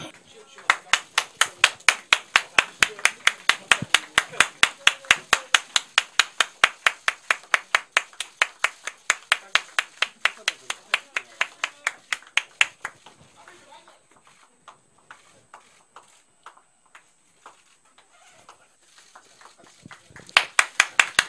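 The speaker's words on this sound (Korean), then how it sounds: "자, 우리 당원 여러분 박수 한번 주세요." Party members at a political rally clap together in a steady, rhythmic unison, loud and close for about twelve seconds, then fading to scattered faint claps before a brief final burst of rhythmic clapping.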